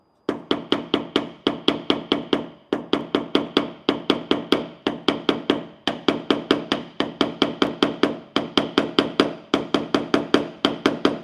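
A hammer striking a crown buster tool on the rear truck bed panel of a Rivian, dozens of sharp, even metallic taps in quick bursts with brief pauses between them, close and loud, with no talk.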